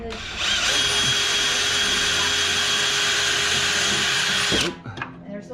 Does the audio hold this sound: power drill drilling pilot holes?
yes